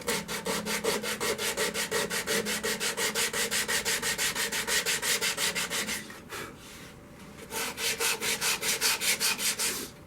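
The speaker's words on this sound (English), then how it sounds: "The poplar isn't too bad to sand, but some other woods, sometimes it's really hard to get the last grit gone." Close, steady sanding against a green poplar wood bowl on a lathe, a fast regular rubbing pulse for about six seconds, a brief lighter pause, then the same even rhythm resumes, loud and alone.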